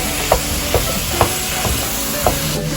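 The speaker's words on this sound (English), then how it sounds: "Mix it up with those onions and cook it up." Onions cooking in a pan for shepherd's pie give off a steady sizzle, with a few louder scrapes and clinks as they are stirred at regular intervals.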